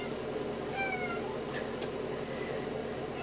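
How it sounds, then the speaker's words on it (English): Faint meows from house cats come through a steady indoor background hum, with a couple of thin, brief cries in the middle and no talking. "My cats are protesting that I just used the bathroom."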